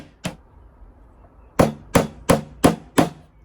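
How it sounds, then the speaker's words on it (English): A hammer driving a nail into wood on a bench hook: one blow, a pause, then five sharp evenly spaced knocks, close and crisp. "I'm going to nail them so that it almost peeps through the bottom here."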